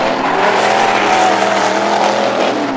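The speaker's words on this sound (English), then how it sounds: "You can really hear them as they step on that throttle, and they get it going as they come around." Dirt track race cars accelerate hard around an oval at a kart racing track, engines roaring loud and close in a steady, unbroken drone with a faint tire skid.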